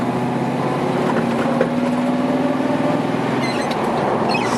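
A 1973 Chevrolet Camaro Z28 V8 engine pulls in second gear with a steady, droning exhaust note and a slight pitch rise, heard close and continuous without speech.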